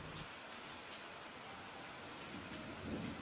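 Rain and thunder sound effect: a steady hiss of heavy rainfall with a low rumble swelling near the end, faint and continuous with no voices.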